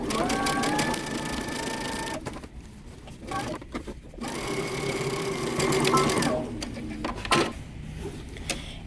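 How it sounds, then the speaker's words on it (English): A sewing machine back stitches a dress seam, a close steady mechanical whir that stops briefly, resumes and shifts speed as it reverses and returns to normal stitch length. "And now I'm going to back stitch, and I'm going to go back to my normal length stitch."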